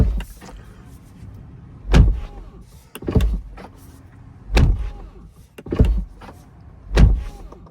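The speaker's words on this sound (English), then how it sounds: "now we'll listen to the door slam" A Tesla Model Y car door slams shut several times at a steady pace, each a loud, close thud followed by quiet.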